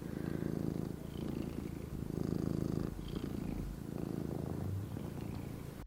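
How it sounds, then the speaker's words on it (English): A cat purrs steadily and close up, a continuous low rumbling that pulses with each breath and carries on for several seconds without a break. "Wonder if you guys can hear her purring."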